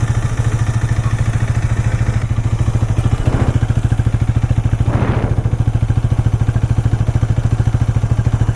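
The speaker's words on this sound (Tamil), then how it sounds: "இன்ஜின் சவுண்டும் எக்ஸாஸ்ட் நோட்டும் நம்ம வந்து பார்த்துடலாம் ஃபஸ்ட்டு." A Hero Xtreme 250R motorcycle idles close by with a loud, steady, rapid exhaust pulse, and the throttle is briefly blipped twice with no voices heard.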